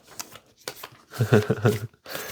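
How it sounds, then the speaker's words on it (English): A deck of heavy, thick tarot cards shuffled by hand in several quick riffling bursts separated by short pauses, close and fairly loud, with no speech over the shuffling. "Should I shuffle it"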